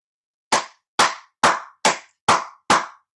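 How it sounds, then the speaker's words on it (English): Six sharp hand claps land close and loud at an even, brisk pace, each a crisp isolated smack against silence, with no talking. "Y'all know when I clap, I get excited."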